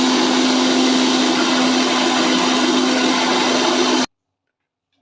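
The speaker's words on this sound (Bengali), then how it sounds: "এবার মিক্সিতে ফাটিয়ে নেব" An electric mixer whirs loud and steady for about four seconds, beating egg and sugar for a stovetop pudding, with a constant motor hum, then cuts off abruptly into silence.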